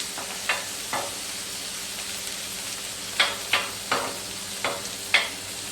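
Chicken wings sizzle on a grill with a soft, steady hiss, punctuated by half a dozen crisp metal spatula taps and scrapes spread unevenly across the grate.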